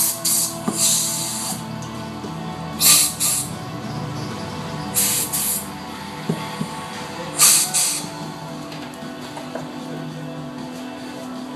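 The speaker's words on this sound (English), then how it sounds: "and then spray it out with the air compressor." An air compressor nozzle blows out a cleaned motorcycle carburetor in three sharp, loud bursts of hissing air, a couple of seconds apart, over a constant background hum.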